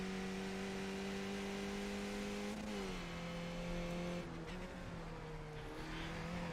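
Skip Barber race car engines roar at Road Atlanta in iRacing, a steady, loud, high-pitched engine drone that shifts pitch as the cars change gear and jostle for position, with no break throughout.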